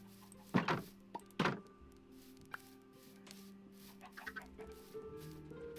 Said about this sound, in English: I'm gonna go feed some chickens.